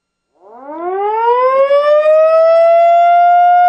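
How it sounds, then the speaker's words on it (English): Siren alarm on a deck on Cape Cod, a single loud rising wail that climbs in pitch then holds a steady tone, alone without talk. "We've got a sea alarm here right on our deck"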